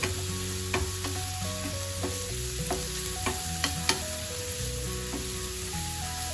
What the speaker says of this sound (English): Add the finely grated uh, carrot and toss them.